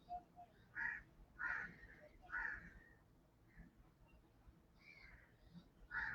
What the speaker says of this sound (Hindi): कोई भी चिड़ियों की आवाज